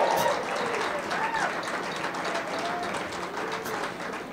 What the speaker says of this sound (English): I'd like everybody to give both bands a big round of applause before they even